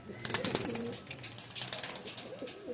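Naptha and Teddy pigeons coo softly inside a loft, a low murmuring run of calls with faint clicks and rustles, fairly quiet and close, with no one speaking.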